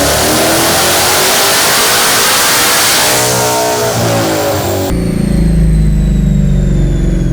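A Hellion twin-turbo S650 engine revs hard on a dyno running 93 octane, climbing steadily and loudly in pitch before cutting off abruptly near the end and dropping to a lower, rumbling note.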